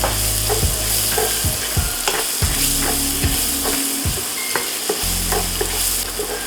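Chopped onion sizzles steadily in hot oil in a pan, with repeated scraping strokes of a spoon stirring it, close and continuous with no voices.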